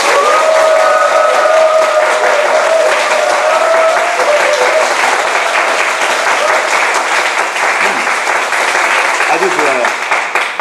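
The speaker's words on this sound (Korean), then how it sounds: "우리 배지영 선생님을 박수로 격려하겠습니다." A church congregation applauds loudly and steadily for a teacher, the clapping filling the room at close range for several seconds while a voice briefly sounds over it early on.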